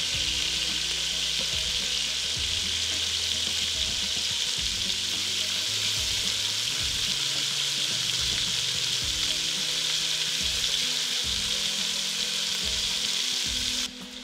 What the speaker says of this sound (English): We're gonna flip them all over. And we'll sear the other side.